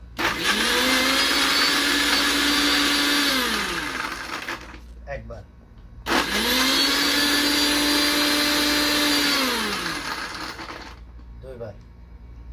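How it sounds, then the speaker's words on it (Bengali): Watermelon is blended into juice in a kitchen blender that runs in two loud bursts of several seconds each, its motor whine dropping as each run ends, and a voice talks briefly between them. "এটা আমি ব্লেন্ডার করবো, দেখেন।"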